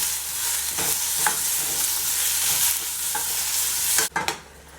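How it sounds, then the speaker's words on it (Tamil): Chopped tomatoes and onions sizzle steadily in a pan as a spoon stirs them for a Tamil mushroom kuzhambu, a close, continuous frying hiss with soft scraping, then a clatter near the end. "வெட்டி வச்சுக்கிற தக்காளியும் போட்டு நல்லா வணக்கி விட்டுறலாம்."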